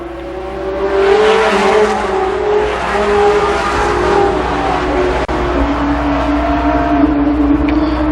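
Race cars roar around Columbus Motor Speedway in 1993, engines loud and sustained as the pack passes with shifting pitch throughout, close and dominant with no break in the noise.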